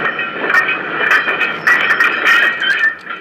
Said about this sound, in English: the good old trusty pannier tank hauls the 3 wagons that we now have